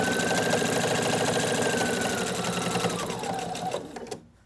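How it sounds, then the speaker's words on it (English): A sewing machine stitches a fabric coaster in a fast, close, rhythmic mechanical whir, holding steady before slowing and stopping with a few clicks at the end. "put your presser foot down and keep sewing"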